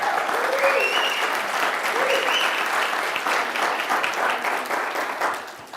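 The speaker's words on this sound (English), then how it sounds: "Can we have another round of applause for Ms." A conference audience at a regional event breaks into a sustained round of dense applause, with crowd murmur mixed in. The clapping holds steady and then starts to thin toward the end.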